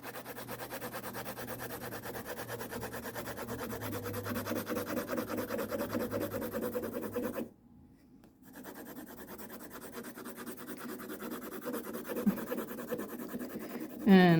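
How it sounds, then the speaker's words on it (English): An F graphite pencil shades on paper with steady, soft scratching strokes pressed fairly hard, continuing for several seconds with a brief pause midway, close and quiet. "And this is still the F pencil."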